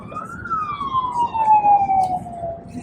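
An ambulance siren wails past with a single long falling tone, moderately loud over traffic rumble, with faint talk in the background.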